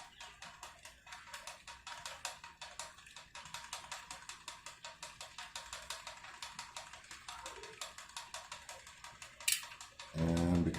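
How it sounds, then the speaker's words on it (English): A 2018 Specialized Venge road bike's derailleur and shifter ticking in a fast, even run of dry mechanical clicks, close by, ending with a brief louder clunk and a short burst of rougher noise. "we've already triggered the first click on the derailleur or the shifter"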